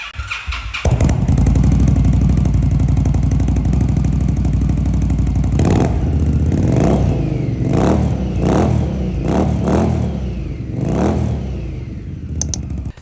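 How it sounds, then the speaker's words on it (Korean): A 2020 Indian Scout Bobber Twenty cruiser motorcycle's 1133cc engine idles with a loping rumble, then is blipped several times in sharp, loud revs through the muffler, close by. "머플러 소리 한번 들어보겠습니다."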